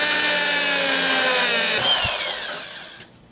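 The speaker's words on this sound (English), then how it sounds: "So we got our handle drilled." Power drill boring through a wooden handle for a homemade scribe, a loud close whine that steadies, then winds down and fades as the bit stops, with a small knock at the end.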